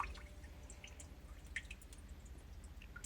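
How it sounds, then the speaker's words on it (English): Water dripping from a pipe on a drained unvented hot water cylinder: sparse, faint, irregular drips over a low background hum, with no voices. "System pressure's down, it's still dripping."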